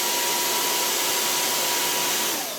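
A hairdryer blows steadily on a curly-coated dog's fur during brushing, a loud, close, continuous whooshing roar with no talk over it.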